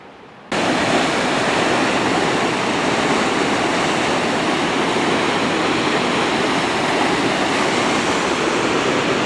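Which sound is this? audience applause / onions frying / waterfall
waterfall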